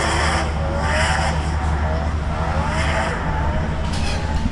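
A drift car at the French drift championship roars down the straight under steady, loud engine drone and rising revs, with a commentator talking over the continuous motor noise.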